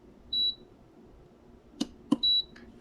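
A food dehydrator beeps as its timer is set to four hours while drying mandarin orange segments, two short, clear electronic beeps with a couple of soft button clicks between them in a quiet room.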